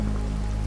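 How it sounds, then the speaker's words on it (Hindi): Steady rain falling during a storm, a dense continuous patter with a low rumbling undertone, close and even throughout with no voices. "वर्षा भी लगातार हो रही है।"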